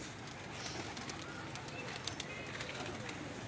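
Soft pigeon cooing amid a dense, hissy background of many birds, steady and fairly distant, with faint murmuring voices.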